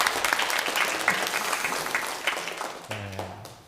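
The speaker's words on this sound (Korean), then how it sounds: "우리 시온 찬양대 박수 다시 한번 할까요?" Church congregation applauding a choir during a Sunday service, a sustained burst of many hands clapping that fades gradually toward the end.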